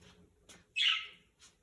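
Hooked-beak pet parrots give a loud, sharp squawking call up close, framed by a few fainter short chirps before and after.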